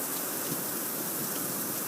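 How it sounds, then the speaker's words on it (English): Soft, steady patter of rain splashing on a tablet on a front porch, a continuous hiss with no voices. "We got a little bit of rain splashing on our tablet."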